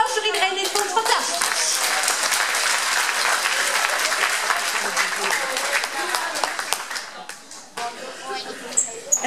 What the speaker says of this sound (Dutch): Applaus voor iedereen